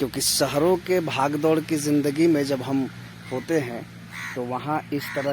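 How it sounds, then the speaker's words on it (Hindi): A bird, crow-like, caws repeatedly in the distance near a village rice paddy and fish pond, heard faintly beneath continuous close-up talking. "आप दूर में सुनिएगा किसी पक्षी के बोलने की आवाज़"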